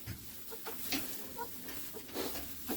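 Chickens in a coop give scattered, quiet clucks and short calls at a distance over a steady background hiss, with no talking.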